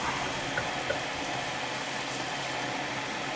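Water boiling hard in a pot on the stove, a steady loud hiss and rumble with small bubbling pops throughout, and no talking.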